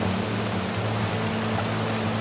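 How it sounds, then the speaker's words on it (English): A spectacular waterfall in Barron Canyon, Algonquin, roars as a steady, dense wash of rushing water, loud and close, with a low hum beneath and no voices. "You come across this spectacular waterfall."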